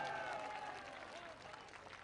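Audience applause at a political rally, a dense, steady burst of clapping heard at a distance, fairly quiet, with a voice faintly over it at the start.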